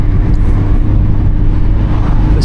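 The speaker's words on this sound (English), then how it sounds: "I added a Goodwin Racing Roadster Sport exhaust system, and that's what you're hearing right now" Mazda MX-5 Miata ND2 roadster fitted with a Goodwin Racing Roadster Sport exhaust, heard from inside with windows down as a steady, loud low engine and exhaust drone with road rumble throughout.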